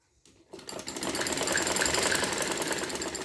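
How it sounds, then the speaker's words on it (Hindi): Sewing machine stitching lace along a kurti side slit, starting from near silence and then running in a fast, steady mechanical whir that stays loud and close until the end. "ये पूरी जहाँ तक आपने लेस लगाई है पूरी सिलाई कर दें"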